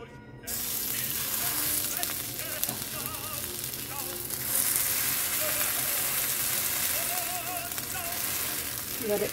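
Cauliflower pancake patties fry in a pan with a steady, close sizzle and crackle that starts abruptly and continues evenly, with a few faint background sounds.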